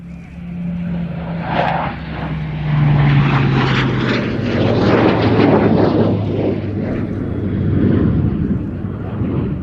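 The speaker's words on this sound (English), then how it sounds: "you're going to get a perfect shot now of the elliptical wing of the Spitfire and that incredible Union Jack underneath the Typhoon" A Spitfire and a Typhoon fly past together at an airshow, a loud, sustained roar of propeller and jet engines that builds and holds for the whole stretch, with no talk over it.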